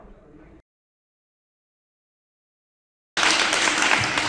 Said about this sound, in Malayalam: നല്ലൊരു കൈയടി എടുത്തവരെ പ്രോത്സാഹിപ്പിച്ചേ.